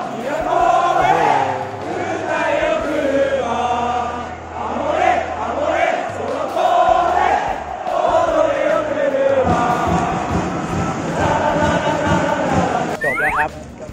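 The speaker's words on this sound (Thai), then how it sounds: "มีกองเชียร์ฉลองกันใหญ่เลย" Football fans in a Japanese J.League stadium celebrate home side Vissel Kobe's 3-0 win, a loud, sustained mass of chanting and singing voices that rises and falls in waves for the whole stretch.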